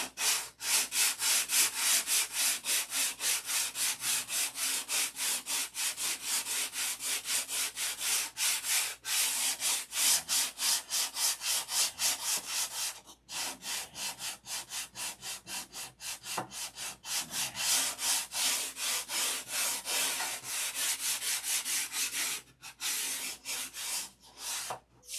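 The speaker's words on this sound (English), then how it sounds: "sanding's not very exciting" Hand sanding on wood produces rapid, rhythmic rubbing strokes that continue steadily and close by, with two brief pauses before the scraping resumes.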